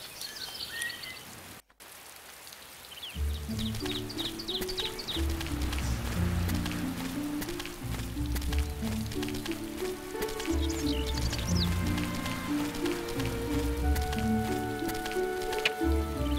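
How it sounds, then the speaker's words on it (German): Rain falls steadily in a horse riding stable adventure game, 'Abenteuer auf dem Reiterhof 6', as a continuous soft patter under a looping melodic game music track, after a brief quieter opening with chirpy tones. "Es regnet natürlich schon wieder."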